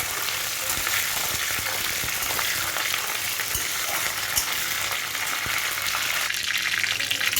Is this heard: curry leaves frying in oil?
yes